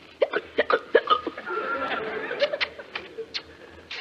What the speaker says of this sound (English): If only you'll stop those awful hiccups.